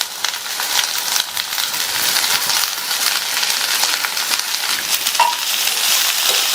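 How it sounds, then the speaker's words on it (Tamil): Broad beans and carrots stir-fried with onion in a pan, a steady bright crackling sizzle with scraping stirs and small clinks throughout, close and fairly loud with no talking. "அவரைக்காய் கேரட் ரெண்டையுமே ஒரே 1 நிமிஷத்துக்கு மட்டும் நல்லா வதக்கி விட்டுக்கோங்க."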